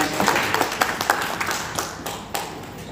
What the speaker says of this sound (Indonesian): Boleh tepuk tangan dulu buat Tuhan.